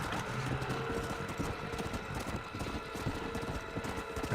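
Horse hooves clip-clop in the video game Red Dead Redemption: Undead Nightmare, a quick steady gallop of soft hoofbeats under a busy game soundscape, with no talking.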